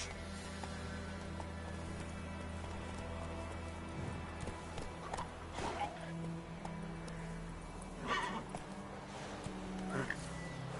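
Roach, a horse in The Witcher 3: Wild Hunt, clip-clops along in a steady trot. The hoofbeats sit over a low ambient game drone, and a few louder bursts rise briefly.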